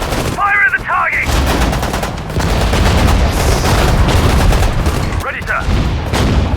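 Rapid gunfire and heavy bursts from the war strategy game Sudden Strike 4, set in the North African desert at El Alamein, rattle continuously and loudly, with short voiced game commands briefly heard at the start and near the end.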